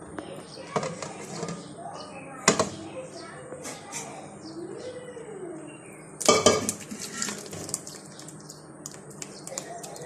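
Ingredients for mango ice cream being mixed in a bowl, with sporadic clinks and clatters of a utensil against the bowl, a few louder knocks, and a person talking throughout.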